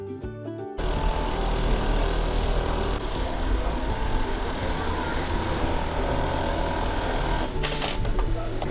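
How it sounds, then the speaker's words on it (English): Industrial sewing machine stitching a leather phone case in a factory, a steady loud mechanical whir running continuously after a brief start, with faint background voices. "So this step is called stitching, just like sewing your clothes to stitch the case more precisely"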